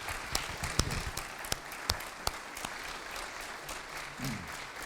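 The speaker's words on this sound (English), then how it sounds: "If you would give them a round of applause" Moderate audience applause at a town candidate forum, many hands clapping in a loose, sustained patter with a few sharper individual claps standing out, heard at some distance in a room.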